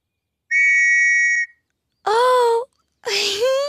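A whistle gives one steady shrill blast of about a second. Two short voiced exclamations follow, rising and falling.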